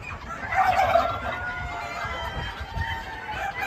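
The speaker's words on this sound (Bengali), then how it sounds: "এই যে সবগুলো হচ্ছে দেশি মুরগি" Several native Bengali chickens cluck and murmur together nearby, a busy flock chorus with overlapping calls that rise and fall continuously.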